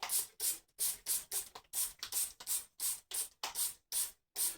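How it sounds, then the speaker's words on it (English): A spray gun applies a thin slurry texture coating onto a Sinistar arcade cockpit seat in about a dozen short, evenly spaced hissing bursts separated by silent gaps, close and clear. "I'm going to spray this entire thing"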